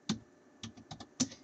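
Keystrokes on a computer keyboard in a few quick bursts of two or three clicks each, close and fairly quiet, with no voice.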